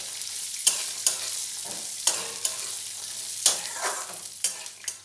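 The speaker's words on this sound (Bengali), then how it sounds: "বাদামগুলোও খুব ভালোভাবে নারকেলের সাথে ভেজে নেব" Peanuts and coconut fry in a pan under a steady hiss, with about eight sharp spatula scrapes and clacks at irregular intervals, close and fairly loud.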